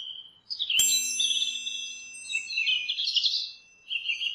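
Caged birds in a cartoon story chirp in bright, high warbling calls, a sharp burst near the start followed by continuous twittering that dips briefly before resuming, with no talk over them.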